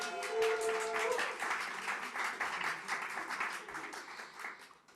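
An audience claps steadily at a Victorian Poetry Month Gala, a dense wash of applause that starts strong and slowly fades over several seconds, with no cheering voices standing out.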